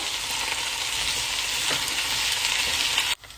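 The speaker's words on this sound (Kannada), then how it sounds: "ಹೆಚ್ಚಿಟ್ಕೊಂಡಿರೋ ಬೆಂಡೆಕಾಯಿ ಹಾಕೋಬೇಕು ಈ ಎಣ್ಣೆಯಲ್ಲಿ ಚೆನ್ನಾಗೆ ಹುರ್ಕೋಬೇಕು" Sliced okra (lady finger) fries in oil in a pan, giving a loud, continuous sizzle that cuts off abruptly near the end.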